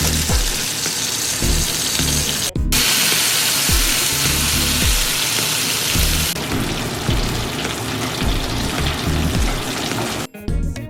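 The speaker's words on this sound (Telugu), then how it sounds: "ఒక ప్యాన్లో ఆయిల్ వేసి ముందుగా మ్యారినేట్ చేసి పక్కన పెట్టుకున్న చేపల్ని ఇలా ఒక్కొక్కటిగా ఫ్రై చేసుకోండి" Marinated fish fillets sizzle in hot oil in a pan, a dense, close crackle running continuously with soft periodic thumps and a couple of brief gaps.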